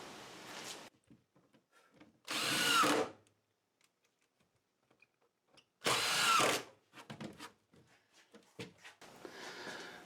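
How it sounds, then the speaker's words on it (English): A power drill bores pilot holes into a wooden box in a workshop, two loud sustained whirring bursts of a few seconds each, separated by quiet gaps with small handling clatter and knocks. "So we'll drill some more pilot holes and screw that in."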